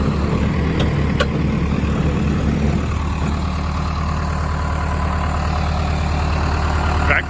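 A tractor engine runs steadily at a farm, a low continuous rumble with a brief shift in tone partway through, heard from nearby without speech.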